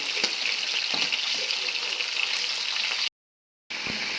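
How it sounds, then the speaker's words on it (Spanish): Longaniza sausage frying in hot oil, a dense steady sizzle that runs close and even, breaks off briefly, then resumes with a light clatter of utensils. "ahora vamos a freír la longaniza para ponerlo todo junto"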